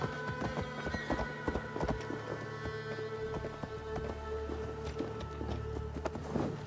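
A horse's hooves clip-clop steadily at a walking pace in Assassin's Creed Valhalla, close and clear over a low ambient bed with light pattering, and no talking.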